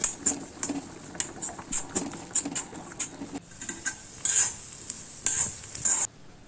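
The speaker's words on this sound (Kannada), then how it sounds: "ಈರುಳ್ಳಿ, ಬೆಳ್ಳುಳ್ಳಿ, ಕರಿಬೇವಿನ ಸೊಪ್ಪು, 1 ಸ್ಪೂನ್ ಜೀರಿಗೆ, ಸ್ವಲ್ಪ ತುಪ್ಪ ಹಾಕಿ ಮಗ್ಗಿಸ್ಕೊಳ್ಳೋಣ" Onion, garlic, curry leaves and cumin fry in ghee with steady sizzling while a spoon stirs and scrapes the pan in repeated close strokes, with sharper clatters near the end.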